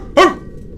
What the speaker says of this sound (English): It's a dog named Tiger because we're talking about Spider-Man